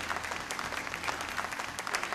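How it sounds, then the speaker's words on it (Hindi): Steady applause from an audience at a police awards evening, sustained dense clapping throughout with no pauses. "मैं चाहूंगी हमारे सारे स्पॉन्सर्स के लिए भी एक बार जरा जोरदार तालियां हो जाए"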